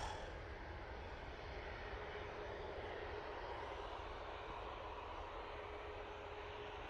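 A Qatar Airways jet in retro livery takes off at Manchester Airport, its engines giving a steady, continuous roar at moderate distance, with no talk.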